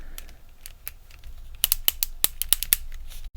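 Plastic handle attachment for a Meta Quest 3 controller being screwed on clockwise, giving a run of sharp, close ratcheting clicks that start sparse and soft, then grow louder and quicker, with no voices.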